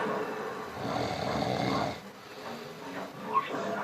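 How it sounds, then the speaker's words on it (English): A dog, Mr. Barker, snores in a snore-off contest: a long, loud rasping inhale swells and fades, then softer snuffling breaths and a short snort follow close by. "Battle of the Snore Off"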